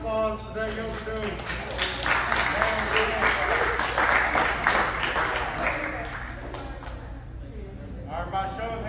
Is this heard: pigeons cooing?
no